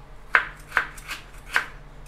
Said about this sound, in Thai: ซอยหั่นแล้วก็ไปตำละเอียด